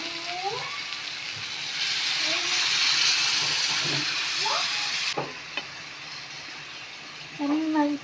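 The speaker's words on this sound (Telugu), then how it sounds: "ఇప్పుడు గ్రేవీకి సరిపడా వాటర్ యాడ్ చేసుకుందాం" Water poured into a hot pan of eggplant and dry fish curry sets off a loud hissing sizzle that swells for a few seconds and then settles, with brief talk before and after.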